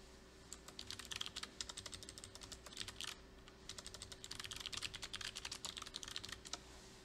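Rapid keyboard key presses, a steady stream of clicky typing with a brief pause midway, close and fairly quiet, with a faint steady hum underneath.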